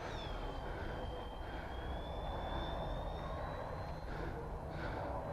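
A Freewing F-14 Tomcat RC jet powered by Admiral 5000 lipos flies overhead with a steady whining electric ducted-fan drone that rises and falls in pitch as it passes, heard from the ground.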